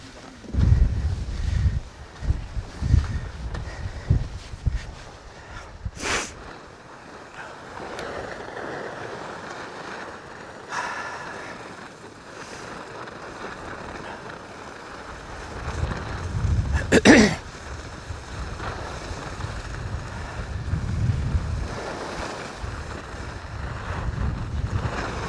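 Wind rushes across the microphone in strong, uneven gusts while moving down a groomed slope, with a louder buffeting stretch near the start and another swell later on.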